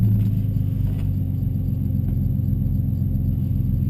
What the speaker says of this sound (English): God, this car shifts hard.